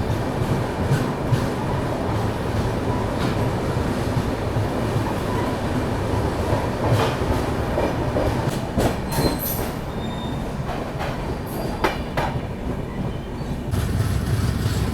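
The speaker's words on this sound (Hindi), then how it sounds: "अब देखो थोड़ा सा स्पीड अप कर रही है ट्रेन।" The Amritsar Jaynagar Humsafar train picks up speed, with a continuous rumble of wheels on rails, rhythmic clacks over joints and occasional sharp squeals, heard steadily throughout.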